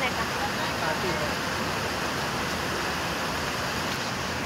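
Forceful water rushes over a weir during riverside fishing, a steady close broadband roar that fills the whole moment with no breaks.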